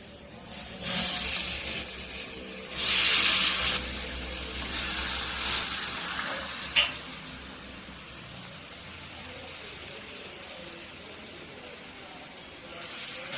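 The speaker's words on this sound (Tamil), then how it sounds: "இப்போ நம்ம சிக்கன் வந்து போட்டீங்கன்னா நல்லா அந்த மசாலாவோடு தட்டி விட்டுருந்தாங்க" Chicken fries with masala in a pan for a village-style varuval, giving a continuous hissing sizzle with brief louder bursts of stirring early on and a steadier, quieter fry afterward.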